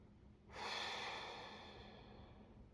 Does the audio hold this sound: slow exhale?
yes